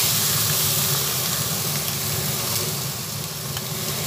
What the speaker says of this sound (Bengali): ভালোভাবে ভাজা হয়ে গেছে, সেই জন্য চাউমিনটা এর মধ্যে দিয়ে দিচ্ছি।